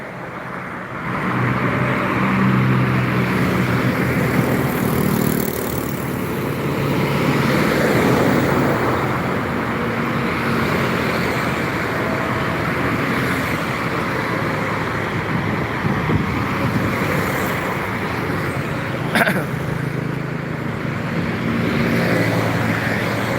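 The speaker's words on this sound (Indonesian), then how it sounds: "Bermacam-macam model truk dan bus juga yang melintas sekitar Palembang." Trucks and buses roll past on a road around Palembang, a steady, fairly loud traffic rumble that swells and eases as vehicles pass, with no voices.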